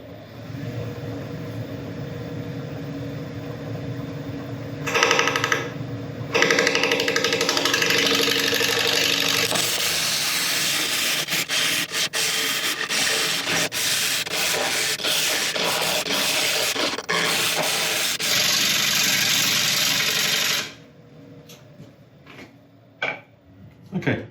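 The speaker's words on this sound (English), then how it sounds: "we're going to start turning at about 700 RPM" An uncut wood burl spins on a lathe at about 700 RPM as a sharpened tool cuts it, making a loud rough scraping and rumble with irregular bursts and catches that drop away to quiet near the end.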